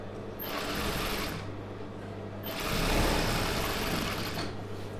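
An USHA sewing machine stitches a tape piece on a patiala pant, running in two long, steady bursts of whirring motor noise with a brief pause between, close and fairly loud.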